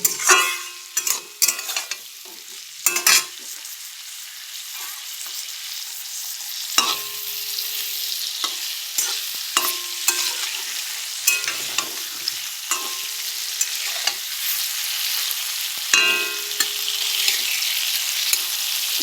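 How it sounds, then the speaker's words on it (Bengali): Eggplant pieces fry in a pan under a constant close sizzle, broken by frequent clinks and scrapes of stirring throughout, with no voices. "বেগুনটা একটু ভেজে নিয়ে তুলে না রাখলে হয় কি, গলে যায়।"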